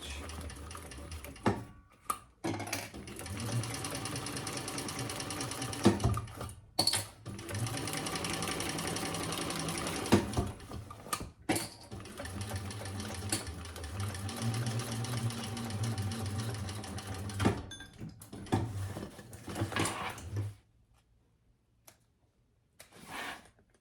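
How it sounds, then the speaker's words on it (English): A sewing machine top stitching a tote handbag, a fast steady whirring drive that runs in long bursts with brief pauses, close and loud, before it stops near the end. "then we'll top stitch."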